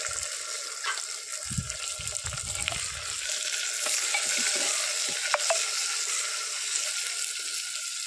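Broad beans tossed into onion and green chili frying in a pan give a steady, close hiss of oil that runs the whole time, with a few dull stirring knocks early on and no voices.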